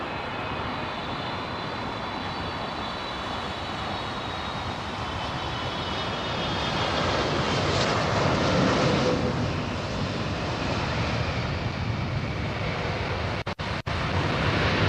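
Steady loud roar of an airplane engine at London Heathrow Airport, swelling slightly in the middle, heard alone without talk.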